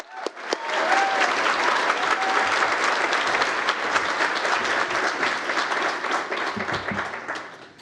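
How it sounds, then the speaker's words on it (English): An audience at the National Press Club in Australia gives sustained applause, a loud, even roar of many clapping hands that starts abruptly and holds steady for several seconds before easing slightly. "can I have a round of applause for Hannah Ferguson?"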